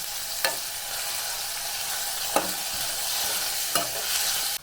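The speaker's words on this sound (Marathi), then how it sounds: "हा कांदा मऊसूर होईपर्यंत आपण परतून घेऊया" Chopped onion sautés in a pan for a raw banana masala curry, giving a steady sizzle broken by three distinct stirring scrapes spaced a couple of seconds apart, close and with no voices.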